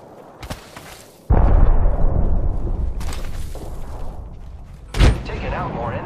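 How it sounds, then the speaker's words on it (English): Enemy gunfire in the Apex Legends battle royale game, a sudden loud burst of shots and booms that sustains into continuous rumbling fire, with another sharp blast near the end and game voice lines around it. "The enemies are shooting at me."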